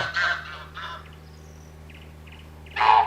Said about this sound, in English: in case you didn't hear me because that goose call